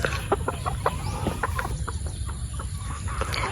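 A young gamefowl rooster stag at a game farm clucks in short, repeated bursts, fairly close and clear, against a steady background hum.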